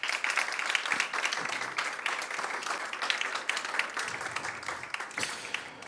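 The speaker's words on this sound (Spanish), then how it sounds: "a quienes recibimos con un fuerte aplauso" An audience at a university honorary doctorate ceremony at UNSAM applauds loudly and continuously, a thick wash of clapping that swells and eases slightly over several seconds.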